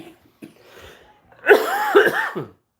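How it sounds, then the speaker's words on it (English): A harsh, hacking cough bursts out in three or four rough, rasping spasms after a quiet moment with faint breathing, close and fairly loud. "got this daggone hacking, gagging cough"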